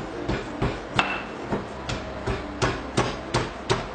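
Ginger, garlic and cardamom are crushed with a stone, producing a run of about ten sharp, evenly spaced thuds and knocks at close range with no talk.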